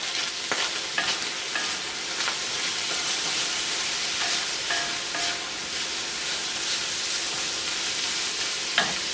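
Ground beef frying in a pan with French onion soup added for a Salisbury steak casserole, a steady close sizzle and hiss with occasional stirring scrapes throughout, no talking.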